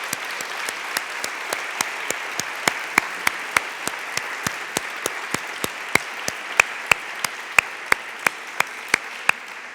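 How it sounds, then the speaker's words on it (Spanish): Audience applause for a female doctor after her talk at a Spanish-language academic event, heard as sharp, evenly spaced claps over a soft crowd hiss, steady throughout. "Un aplauso para la doctora Hiroyasu."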